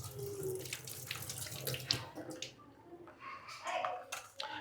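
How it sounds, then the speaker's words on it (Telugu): Fish being rinsed under a running tap, water splashing steadily into a sink with brief squishy handling noises, close and moderately loud, with some background voices. "చేపలు అయితే తీసుకున్నాము నీట్గా కడిగి క్లీన్ చేసి పెట్టుకోవాలి"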